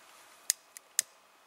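A cheap pocket lighter, bought in Kyrgyzstan and probably Chinese-made, is struck to start a campfire in a damp Latvian forest, producing three sharp, quiet clicks in quick succession over soft outdoor hush.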